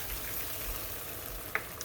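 Boiling hot water, about one and a half cups, is poured into a kitchen measure, making a steady soft hiss with a small click near the end.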